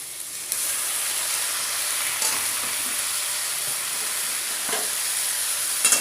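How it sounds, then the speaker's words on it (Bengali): Greens being stirred in a hot pan with fish, a steady loud sizzle and frying hiss throughout with a few soft scraping stirs of the spatula. "শাকটাকে ভালো করে একটু নেড়ে নেব"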